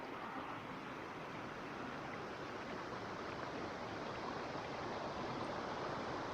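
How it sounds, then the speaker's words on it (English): A small waterfall beside a campsite in Hells Canyon, Idaho, pours in a steady, even broadband rush that stays constant and moderately quiet throughout, with no voices or other events. "This campsite comes complete with its own personal waterfall."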